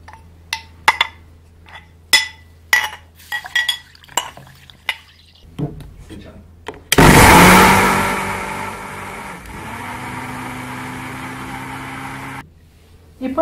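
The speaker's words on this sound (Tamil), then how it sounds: "நம்ம இப்போ பால் எடுக்கிறதுக்காக இந்த முளைக்கட்டிய ராகியை வந்து நம்ம மிக்சியில் போடுறோம்." Sprouted ragi is spooned into a kitchen mixer grinder with a few clinks and scrapes. The mixer then bursts into a loud whirring roar that blends it with water for several seconds before cutting off abruptly.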